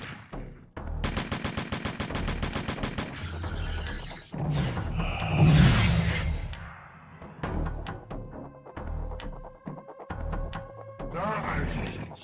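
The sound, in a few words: gunfire in Mad Devils video game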